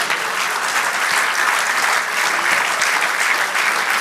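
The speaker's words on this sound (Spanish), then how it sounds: "Dale un aplauso al Señor." A sermon congregation applauds the Lord with dense, continuous clapping, loud and close, holding an even level throughout with no voices heard.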